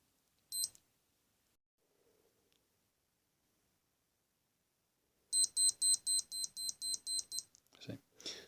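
A short chirp, then a rapid series of about ten sharp, high-pitched electronic beeps in a steady rhythm from a Timex Ironman Triathlon digital watch alarm, followed by faint handling noises.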